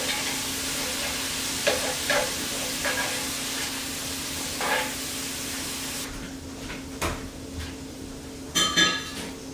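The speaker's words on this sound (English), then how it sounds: "I'm going to fry a medium onion in with the sausage" A medium onion fries with sausage in a pan, giving a steady close sizzle throughout, broken by a few light scrapes and clinks of a utensil breaking up the meat.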